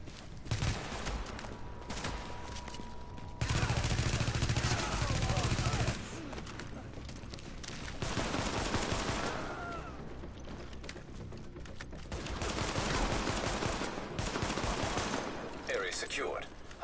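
Bursts of video game gunfire in The Division, shot through a wall, loud and rapid in clusters separated by short lulls, layered with game effects and someone talking over it.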